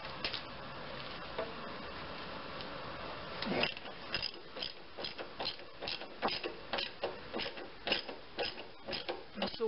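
A hand ratchet works on engine mount bolts of a 2003 Chevrolet Cavalier with a 2.2L Ecotec, one heavy crack as a bolt breaks loose, then a steady series of quick clicking strokes close by.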